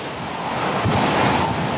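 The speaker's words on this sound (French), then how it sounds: "Mais le cyclone est si puissant que l'eau monte à très grande vitesse." Strong cyclone wind roaring over fast-rising floodwater, a dense, steady rushing noise with churning water, loud and unbroken for under two seconds with no voices.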